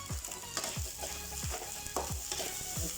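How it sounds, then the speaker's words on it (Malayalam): Vegetable fried rice sizzles steadily in a hot pan while being stir-fried, with repeated scraping strokes of the spatula roughly every half second under the continuous hiss. "ഫ്രൈഡ് റൈസ് ചെയ്യുമ്പോഴേ ഇതുപോലെ ഈ സൗണ്ട് ഇങ്ങനെ വരുന്നതാണ്"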